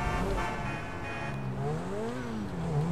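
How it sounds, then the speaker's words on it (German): A GTA V car engine running rough, a continuous rumbling drone whose pitch wavers and climbs unevenly, heard steadily at moderate level with no talking. "Boah, der Wagen hört sich schlimm an."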